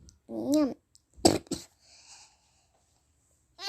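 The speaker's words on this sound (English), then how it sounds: "I sneezed." A person sneezes up close: a short voiced intake of breath followed by two sharp, explosive bursts, then quiet.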